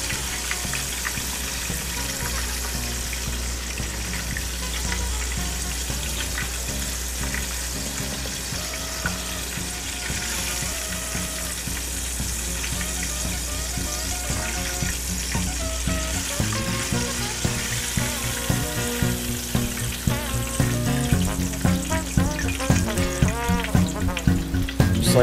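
Fish fillets frying hard in hot oil give a steady, dense sizzle and crackle that swells louder toward the end, with faint clinks of stirring and no talk.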